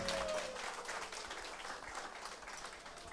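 An audience at a Qatar music troupe concert applauds as a musician is welcomed on stage: a steady, moderately distant wash of clapping that stays level throughout, with no voices over it.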